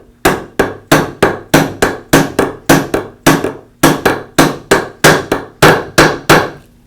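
Repeated sharp hammer blows on a screw threaded into the armature shaft of a Porter Cable sander, about twenty loud, close strikes in a steady rhythm with short gaps.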